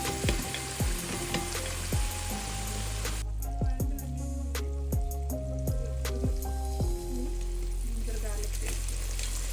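Ingredients being sautéed for manthi in a hot pan, a steady sizzle and fry with stirring scrapes and clinks throughout, close and fairly loud, with faint voice in the background.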